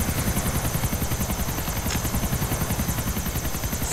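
Helicopter rotor chopping steadily in GTA 4, a loud, continuous whirring thrum with rapid blade pulses and a constant engine whine throughout.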